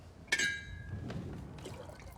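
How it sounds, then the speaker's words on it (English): Tea poured from a cup back into a teapot, a short liquid splash and trickle with a faint clink of china at the start, close and quiet, with no speech over it. "Now pour the tea back into the pot."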